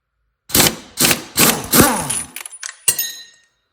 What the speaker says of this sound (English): I use an impact gun on here.